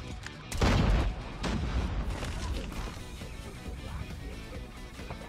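SKS rifle fire in Call of Duty Mobile, a loud close burst near the start followed by a steady wash of battle noise and scattered shots.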